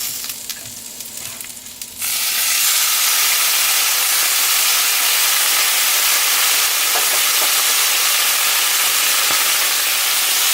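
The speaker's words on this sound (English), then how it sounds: "I like to throw a little bit of water in the pan at this point." Water hits a hot pan of mixed vegetables, setting off a sudden loud, steady hiss of steam and sizzling that swells after a quieter first two seconds and holds close and strong to the end, with no talking.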